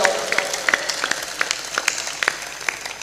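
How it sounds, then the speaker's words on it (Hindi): A live audience at a spiritual discourse breaks into steady, sustained clapping, a dense continuous patter with a few louder claps standing out, filling the space close by. "ताली जोर बजाया करो,"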